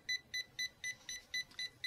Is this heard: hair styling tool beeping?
yes